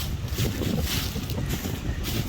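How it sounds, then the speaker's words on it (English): Strong, gusty wind buffets the microphone continuously in the Great Smoky Mountains, a loud roaring rumble with no let-up. "boy, it's been windy"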